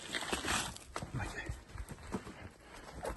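A cow walks outdoors at a livestock sale, its hooves landing in uneven thuds and scuffs on the ground, close by at moderate level, while someone talks over the steps.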